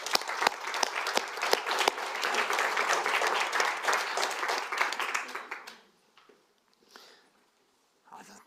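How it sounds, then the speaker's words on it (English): Conference audience's warm round of applause for a speaker, crisp close claps from a moderate crowd that dies away after about six seconds into a few stray sounds and quiet shuffling. "please give a warm round of applause to Jacqueline Frost."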